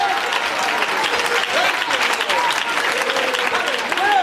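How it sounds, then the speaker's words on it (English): A church congregation claps their hands in dense, steady applause during a worship service, with scattered voices and shouts riding over the clapping. "Clap your hands and shout hallelujah."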